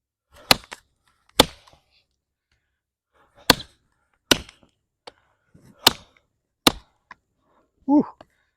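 An OdenWolf W-Machete chops into hard wood in about seven sharp, loud, close strikes spaced irregularly over several seconds, with quiet gaps between them and a brief breathy vocal sound near the end.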